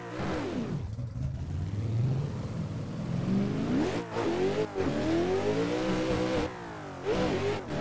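A driver's Nissan 400Z drift competition car revs hard on track, its engine rising and falling in steady sweeping pitch, loud and close, with a brief voice over it.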